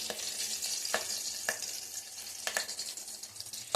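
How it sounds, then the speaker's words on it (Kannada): Garlic and curry leaves frying in oil in a clay pot, a steady close sizzle with a few sharp clinks of stirring scattered through. "ಚೆನ್ನಾಗಿ ಎಣ್ಣೆಯಲ್ಲಿ ಸ್ವಲ್ಪ ಹೊತ್ತು ಫ್ರೈ ಮಾಡ್ಕೊಳ್ಳಿದ್ದೀನಿ"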